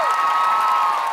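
Crowd cheering and applause for a dancing pair on a televised dance competition stage, a dense, loud, steady roar with whoops and a high sustained tone running through it.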